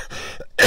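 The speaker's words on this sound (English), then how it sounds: "I had to clear my throat there" A single short throat clearing, close and fairly loud, ending in a sharp harsh burst.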